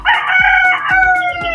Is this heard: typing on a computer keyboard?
no